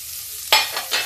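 Finely chopped onion hitting a hot pan, a sudden loud burst of sizzling followed by two more crackling surges as it settles, close and alone without speech.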